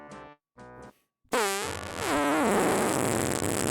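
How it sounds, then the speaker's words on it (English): A loud, long cartoonish fart effect from the Discworld adventure game bursts in after a couple of short musical tones, a wet, rippling blast that rises and sprawls noisily for over two seconds. "And Benny Clancy makes an entrance with a super loud fart."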